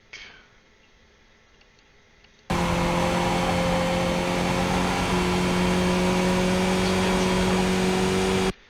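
A Skip Barber race car in the iRacing sim at Road America roars at full throttle, a steady, loud, unbroken engine drone with high whining tones that cuts in abruptly after a quiet stretch and stops sharply at the end.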